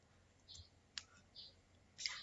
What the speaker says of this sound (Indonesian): kalian boleh menekan tombol enter pada keyboard